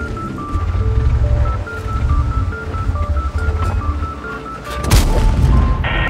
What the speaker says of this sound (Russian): Удачный выстрел, брат!